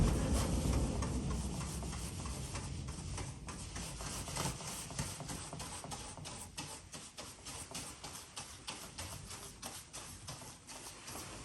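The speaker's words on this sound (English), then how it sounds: "get the resin and just brush it all over the area where we're going to laminate" A brush slathering resin over a repair area on a workshop wall before laminating, a rapid, rhythmic series of close scratchy strokes that start dense and loud, then thin into distinct, fainter swipes.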